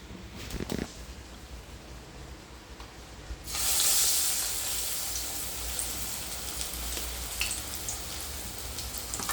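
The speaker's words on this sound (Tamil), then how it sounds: "இதில் நம்ம ஒன்று ஒன்றா நல்லா அழகாக பொரிச்சு எடுப்போம்." Dal vada balls deep fry in hot oil, a steady close bubbling sizzle that swells louder once more batter goes into the pan and keeps crackling evenly.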